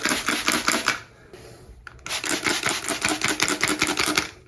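Rapid, rhythmic hissing bursts from a spray bottle of cleaner on cobwebs, a run of quick squirts, a short pause, then another steady series of sprays.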